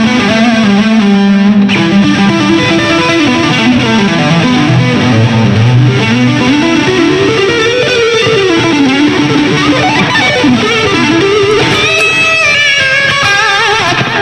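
A loud, heavily distorted high-gain electric guitar through an Axe-Fx II plays sustained, gritty chords and bends, a dense saturated tone that rings continuously.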